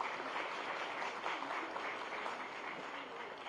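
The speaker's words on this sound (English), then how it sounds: "Please give a round of applause." Faint, even applause from an audience at a formal event in Gandhinagar, a soft continuous patter of many hands heard from a distance without a break.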